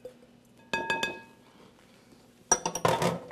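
Almonds tumble from one bowl into a larger one for an almond tart, making a cluster of bright clinks and clatters, a pause, then a louder rattling burst of hard nuts against the bowl.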